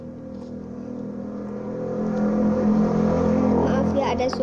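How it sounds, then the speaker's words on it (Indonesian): A motorbike engine runs outside, its drone swelling louder over a few seconds as if approaching or revving, while people talk nearby. "Maaf ya, ada suara motor."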